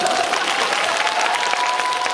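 Steady applause from a live audience at a Korean film promotion talk event, dense and even throughout with no one speaking.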